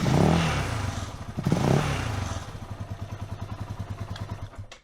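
A Beta Alp motorcycle fitted with a lithium-ion battery cranks briefly and starts, then settles into a close, rapid, even idle putter that fades out at the end.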